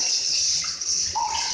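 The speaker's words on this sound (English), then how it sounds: "you just push this handle and water spray" A handheld toilet water spray gun, the push-handle bidet flusher beside a toilet, gives a steady close hiss of spraying water that runs unbroken for the whole short stretch.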